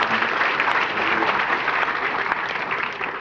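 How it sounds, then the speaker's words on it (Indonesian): A church congregation applauds during a sermon, loud, dense clapping that holds steady for a few seconds and then begins to fade. "Beri tepuk tangan yang meriah bagi Tuhan."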